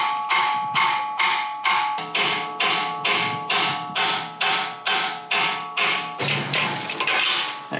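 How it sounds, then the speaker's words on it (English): Metal hammer blows ring out one after another in a steady rhythm as a car's Panhard bar is driven into place, about a dozen sharp strikes, followed by a clattering scrape. "just use a hammer and kind of slide it in there"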